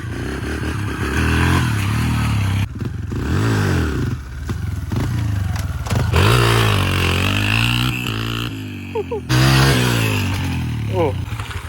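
A dirt bike fitted with an oversized rear sprocket rides nearby, its engine droning and revving in uneven surges with clattering and scraping, while people talk over it throughout.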